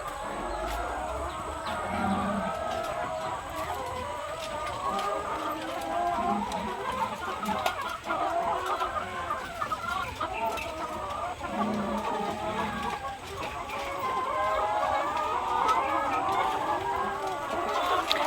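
Native kayapak chickens in a farm cage area cluck and chatter continuously at moderate distance, a busy overlapping flock sound with occasional louder calls.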